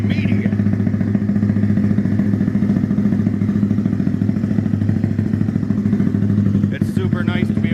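A custom-built Honda Grom engine with a big throttle body and five-speed gearbox, already running and idling in a fast, even, lumpy chug, loud and close throughout, with a short clatter near the end.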